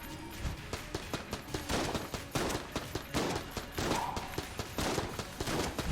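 Tommy gun fire from ghost enemies in Enter the Gungeon: rapid rattling bursts of automatic fire repeating steadily, fairly faint and mixed with game music and effects.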